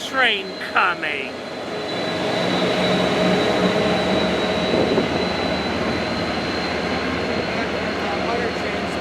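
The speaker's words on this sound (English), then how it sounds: "we got a freight train coming" A freight train passes at a rail station, a broad rising rumble that holds steady and close, following a few short horn-like tones at the start, with people talking over it.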